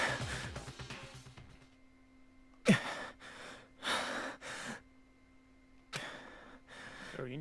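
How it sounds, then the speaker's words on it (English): Someone breathing heavily into a microphone, a series of loud close breaths, sighs and gasps in uneven bursts separated by near-silence, with no talking. "Don't breathe in my ear like this."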